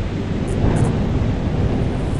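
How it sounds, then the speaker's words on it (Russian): Thunder from lightning strikes in the video game Lethal Company, a loud, continuous low rumble filling the whole stretch with no voices. "Да, молнии бьют."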